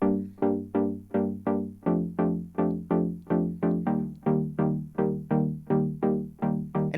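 Swung electronic drum groove, slightly off the grid, a steady run of about twenty punchy tonal hits with a loping shuffle, close and clear with nothing else over it.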